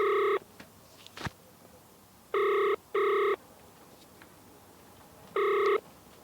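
An outgoing telephone call sounds its ringback tone: four evenly timed electronic ring bursts, each about a third of a second long, clear and close over a quiet line with a faint click between them.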